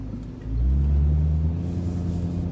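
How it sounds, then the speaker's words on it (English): A BMW E93 M3 convertible's S65 naturally aspirated V8 rumbles nearby, a deep low idle that swells briefly and then holds steady, with no voices. "The engine, the S65 high revving naturally aspirated V8."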